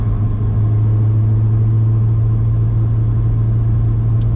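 A procharged 2017 Corvette Z06 with a 416ci engine on drag radials, heard from inside as a loud, steady low engine drone and road rumble while the car is driven along.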